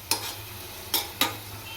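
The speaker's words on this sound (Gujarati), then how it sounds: "હવે આપણે એક મોટા ટમેટાની આપણે ટોમેટો પ્યુરી બનાવેલી છે તો એને પણ આપણે એડ કરી દઈશું અને આને પણ સારી રીતે આપણે મિક્સ કરી લઈશું" A spoon stirs tomato puree into fried onions in a pan, three short scraping strokes spaced apart over a low steady sizzle, with no talking.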